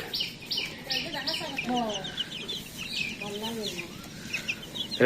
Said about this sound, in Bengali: টাইগার মুরগি বইলা দিছে